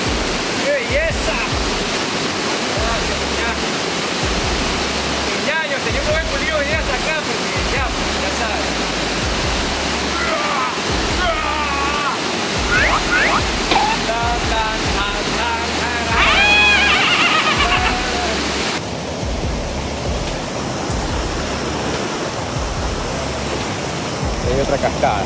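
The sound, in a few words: waterfalls in the Cañón del Diablo, Santo Domingo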